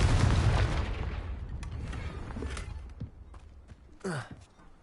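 A fire spell cast in a fantasy video game: a heavy blast that fades into crackling debris and a short rumble, with a brief voiced exclamation near the end.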